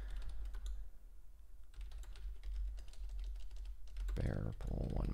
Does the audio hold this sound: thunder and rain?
no